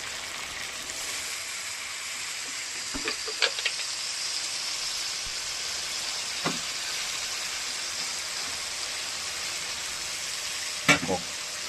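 Spice paste sautéing in a pan gives a steady, soft frying sizzle with a few sharp clinks of stirring, close and continuous throughout.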